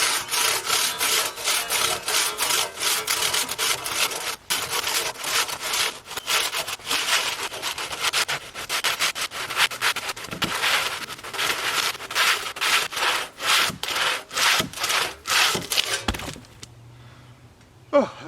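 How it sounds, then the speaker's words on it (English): Steady back-and-forth strokes of a handsaw cutting through wood outdoors in the early morning, close and rhythmic, continuing for a long stretch before stopping with a final clunk. "I'm going to use a handsaw here"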